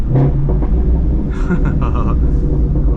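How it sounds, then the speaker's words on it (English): A deep, steady engine rumble from a Ford Mustang GT350R's flat-plane crank V8 idling nearby, smooth and continuous with a slight rise in the middle. "love the sound of this engine"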